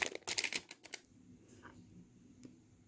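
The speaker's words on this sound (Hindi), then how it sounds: "इसकी पॉलीथीन निकाल लेते हैं ऊपर से।" Protective plastic film is peeled off a Samsung Galaxy M12 phone, giving a quick burst of close crackly rustling at the start that fades into faint handling noise.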